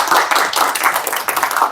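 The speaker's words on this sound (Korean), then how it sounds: "강사님을 박수로 맞이하겠습니다." An audience claps together to welcome a guest lecturer at a talk, a dense, steady burst of many hands filling the room for under two seconds with no voices over it.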